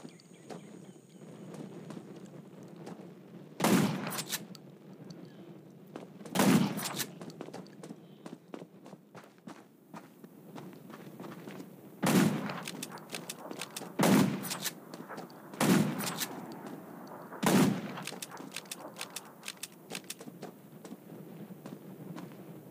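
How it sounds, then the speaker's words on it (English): Gunshots ring out in the zombie survival video game Undawn, six or so sharp, loud single cracks spaced several seconds apart over a low ambient hum, with footsteps and small movement sounds between them. "Shots will attract more zombies."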